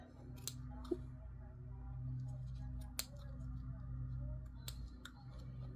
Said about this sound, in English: I'm kind of cutting around the middle part so I can open it up